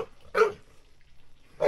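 Dogs bark beside a garden pond at a home in Portugal: one sharp bark, a quiet pause, then another bark at the end, moderately close and with no talking over them.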